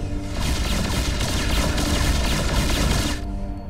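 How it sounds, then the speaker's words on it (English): Continuous barrage of heavy artillery bombardment in StarCraft 2's Maw of the Void mission, a dense roaring wall of blasts and rumbling explosions that holds steady for several seconds before cutting off. "Commencing bombardment."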